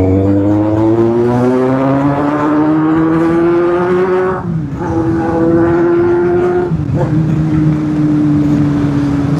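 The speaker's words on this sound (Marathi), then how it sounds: "हा हाफ क्लच साऊंड मोस्टली ना तुम्हाला सांगतो ड्रॅग रेस मध्ये यूज होऊन जातो ऑटोमॅटिक" A car engine revved hard on half clutch in drag-race style, a loud close rising whine that climbs steadily, drops briefly twice as revs dip, then holds high again, with talk over it.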